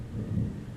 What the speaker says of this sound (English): also here one thunderstorm coming